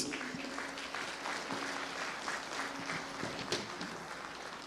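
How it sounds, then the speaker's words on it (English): A crowd at an arts and culture festival breaks into dense, sustained applause, a continuous wash of many hands clapping at moderate distance with a few brighter claps standing out. "Give yourself a round of applause for making it."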